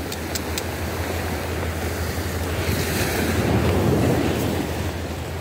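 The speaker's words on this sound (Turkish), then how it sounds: "Deniz hafif hareketli, dalgalı." Slightly choppy sea waves wash steadily on open water, a continuous broad roar with gentle swells and wind buffeting the microphone, no voices.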